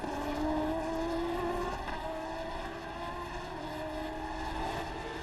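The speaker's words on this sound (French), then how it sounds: "Le voici en gros plan, Robert Wickens et sa monoplace." A Formula Renault 3.5 single-seater race car drives at the Hungaroring in 2008, its engine giving a continuous high, rising whine that holds steady at a moderate distance, with no clear voices over it.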